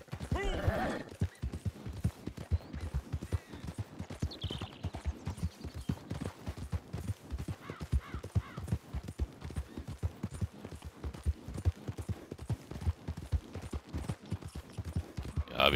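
Horse hooves in Red Dead Redemption 2 as a rider gallops along, a quick steady clip-clop pattern running the whole way, with a brief whinny early on and faint game sounds underneath.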